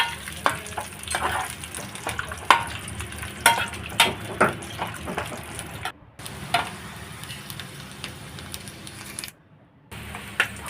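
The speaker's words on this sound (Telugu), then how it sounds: "ఇప్పుడు ఒక ప్యాన్ పెట్టుకొని 2 స్పూన్లు నెయ్యి వేసుకొని డ్రై ఫ్రూట్స్ మొత్తం దోరగా వేయించాలి" Dry fruits frying in two spoons of ghee in a pan, an active crackling sizzle broken by frequent scraping stirs and clicks, with two short silent cuts near the end.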